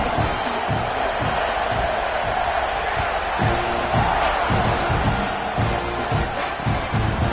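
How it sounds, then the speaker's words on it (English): A football stadium crowd roars continuously at a kickoff, a dense, loud wash of cheering with rhythmic thumps or stomps recurring through it. "this crowd is feeling themselves after that last drive"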